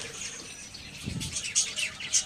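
A male and female budgerigar sit side by side, giving a few short, bright chirps and tweets close by. Soft rustling runs between the calls.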